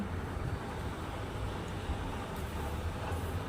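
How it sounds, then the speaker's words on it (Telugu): An electric mixer grinder whirs steadily as it grinds dry red chilli into a fine powder for a peanut spice mix, a loud, continuous motor drone with no talking. "ఇలా మెత్తగా మిక్సీ పట్టుకోవాలండి."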